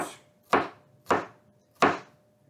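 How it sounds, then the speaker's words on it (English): A knife chopping peppers on a cutting board for vegetarian fajitas: four evenly spaced, solid thuds with a woody knock, close and fairly loud, about half a second apart with no talk between them. "we're going to just cut that up into some finely chopped"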